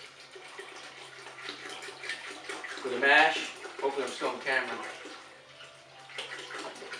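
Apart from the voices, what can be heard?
tap water filling a brew kettle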